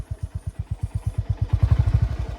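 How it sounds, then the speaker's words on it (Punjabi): A motorcycle ridden over big rocks on a mountain road, its engine pulsing in a rapid, regular thump, close and loud, with clattering as the wheels cross the stones. "ਵੱਡੇ ਵੱਡੇ ਪੱਥਰਾਂ ਦੇ ਉੱਪਰੋਂ ਮੋਟਰਸਾਈਕਲ ਲੰਘਦਾ ਪਿਆ ਆ"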